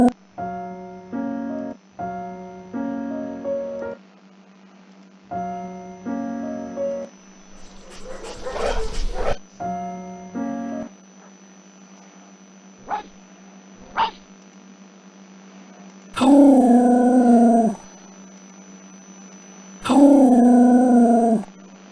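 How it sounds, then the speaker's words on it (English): Sled dogs barking and snapping at each other, short repeated yelps and barks in bursts followed by two longer drawn-out howls, loud and close, set against music. "the other dogs began to bark and snap at each other"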